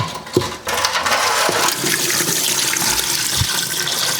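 Rusty debris and old fermented fuel poured from an abandoned Kawasaki KLR dirt bike's fuel tank into a bucket, a steady splashing, rattling pour that runs continuously and fairly loud from start to finish.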